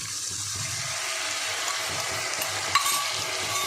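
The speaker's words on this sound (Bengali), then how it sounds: "এবার মশলা দিয়ে ভালো করে কষাবো।" A ground spice paste cooks in hot oil in a pan for a vegetarian Bengali dish, giving a loud, even hiss that runs throughout, with one brief metallic clink partway through.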